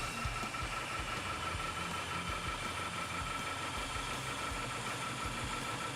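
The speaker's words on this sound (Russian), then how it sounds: "После этого еще поднастроил карбюратор, и двигатель стал работать почище." An Oka car engine swapped into a homemade buggy idles after carburetor tuning, a steady, even, close-up mechanical hum with fine vibration and no pauses for six seconds.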